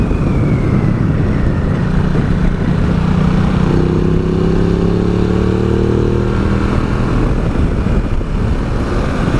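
A 2017 Ducati Multistrada 950 motorcycle ridden along the A413 road, its engine droning steadily and close with a rising, shifting tone and constant wind rush, no voices.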